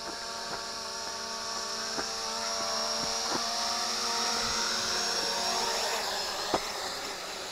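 Small quadcopter motors whine steadily at high pitch as the drone comes down to land on sand, a continuous buzzing drone with a few sharp clicks and knocks near the end, nearby and fairly loud.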